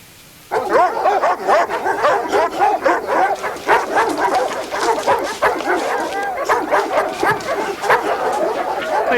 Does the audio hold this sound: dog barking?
yes